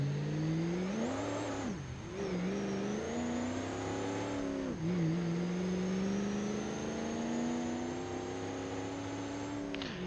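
Simulated diesel pickup truck with a 7.3 Powerstroke engine and G56 swap, towing a heavy 21,000 lb load in BeamNG.drive, drones steadily with rising and falling engine pitch through gear changes, loud and continuous without speech.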